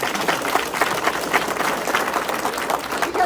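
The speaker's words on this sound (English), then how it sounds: "You deserve an applause." A town hall audience in Chehalis, Washington applauds steadily, a dense wash of many hands clapping at an even, sustained level for several seconds without a break.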